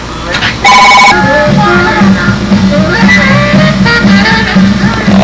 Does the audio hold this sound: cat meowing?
no